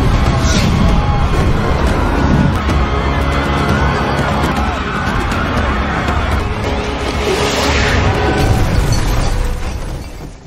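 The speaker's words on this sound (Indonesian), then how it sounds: "kapal itu melepaskan tembakan dan boom" A ship fires its cannon in a film battle scene, giving a loud, sustained roaring blast. It surges near the start and again later and fades at the very end.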